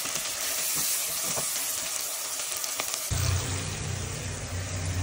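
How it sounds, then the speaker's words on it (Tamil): Onions fry to a light golden brown in a pan with salt, a steady, loud, close sizzle that holds continuously throughout with no speech. "பாருங்க, நல்லா வெங்காயம் வந்து ஃப்ரை ஆயிடுச்சு, லைட்டாக கோல்டன் ப்ரௌன் ஆயிடுச்சு."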